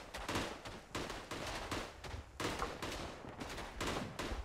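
Volleys of rifle and machine-gun fire crackle from the trenches of the WWI shooter Tannenberg, with dense overlapping shots in repeated bursts, fairly faint and distant.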